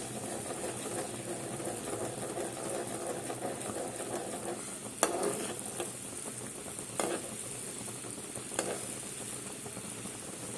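Besan (gram flour) being stirred in a pan for besan laddu: a continuous frying hiss runs throughout, with a few sharp scrapes of the spoon against the pan standing out near the middle, close and fairly quiet, no talking.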